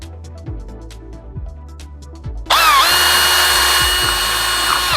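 A power drill bores a hole through a vinyl siding outside corner during exterior installation; after a few seconds of low background clatter the drill kicks in, a loud, close, steady whine lasting a couple of seconds.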